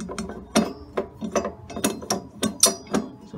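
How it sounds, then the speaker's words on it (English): A loose drum pulley on a Matsui M100WM09 washing machine is turned by hand, giving a series of irregular ratcheting clicks and knocks, close and alone with no talk. "just revolve it on my finger to get that belt off"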